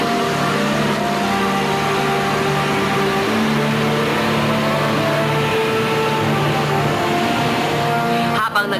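A taxi drives along with a steady, loud engine drone whose pitch rises and falls smoothly as it speeds up and eases off, ending in a brief clatter.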